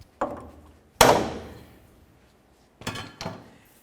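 Four sharp hammer strikes ring out on a metal bar during idler arm bracket replacement on a 1999-2007 Chevy Silverado, one loud blow with a lingering ring, then two quick hits close together near the end.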